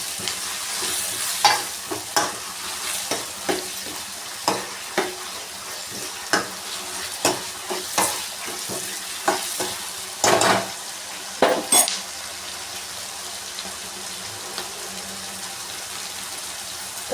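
Tomatoes softening in a hot pan for kichdi, with a steady low sizzle broken by repeated sharp scrapes and clinks of a spoon stirring against the metal, close and alone without talk.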